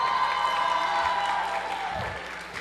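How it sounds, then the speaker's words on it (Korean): A church youth audience cheers and applauds, with a loud burst of high-pitched shouting and clapping that gradually fades, followed by a few scattered voices. "와, 이 정도의 함성이 나왔는데"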